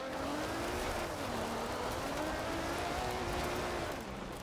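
A 1998 car drives in Forza Horizon 4, its engine drone held steady and loud with the pitch wavering gently as it cruises, no voices over it.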